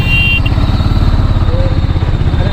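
An auto-rickshaw engine pulls in first gear as it climbs onto a highway during a road trip to Manali, its loud, close putter pulsing steadily and evenly throughout.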